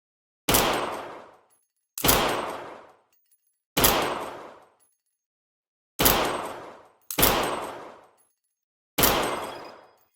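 Six single shots from an M9 Smart VR pistol at a VR shooting range, each a loud sharp crack with a brief decaying tail, fired at irregular intervals with silence between.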